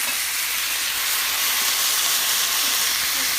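Ground beef frying in a pan gives off a loud, steady sizzle and hiss that fills the whole moment up close, without pauses.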